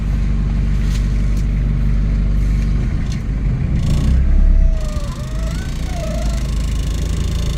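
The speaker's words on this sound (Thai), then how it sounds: "โอ้สตาร์ทติดเลย สตาร์ทนิ่มๆเลยครับคันนี้" A used single-cab pickup truck runs with a loud, close, steady low engine rumble after starting, rising into a brief heavier surge and then settling back to a smooth idle, with a few faint clicks and squeaks nearby.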